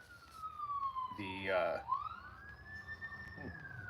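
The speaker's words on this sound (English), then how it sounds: "bunch of sirens outside" A police siren wails outside a woodworking shop, its pitch sliding down then sweeping back up, with a burst of muffled voices in the middle.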